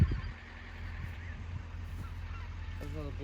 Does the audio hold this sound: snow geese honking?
yes